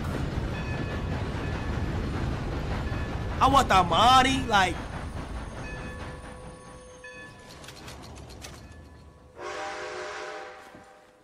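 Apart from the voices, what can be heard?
train arriving at station in video game Red Dead Redemption 2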